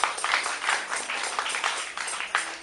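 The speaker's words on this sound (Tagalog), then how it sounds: "Pumalakpak po tayo sa ating Panginoon." A church congregation claps for the Lord, a close, continuous burst of many hands with uneven rhythm, and no voices over it.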